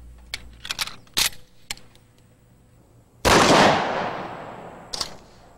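Shotgun firing number 4 buckshot at a mannequin wearing soft body armor: a single loud, sharp blast with a long decaying roar, preceded by faint clicks and handling noises, and a small clack afterward.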